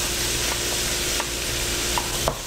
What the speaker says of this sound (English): so add in about a fourth of the white onions.